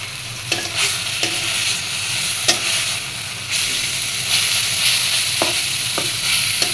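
Dondokolos greens frying in a little oil in a pan, a steady close sizzle throughout with several sharp scraping stirs of a spatula at irregular intervals; no voices.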